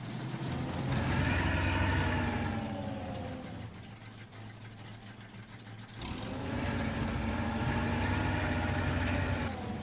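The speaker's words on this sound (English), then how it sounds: "Let's start the engine." A blue truck in the SpinTires off-road game runs its engine at a steady low rumble, dipping for a few seconds in the middle before the same harmonic drone returns, loud and close with no talk.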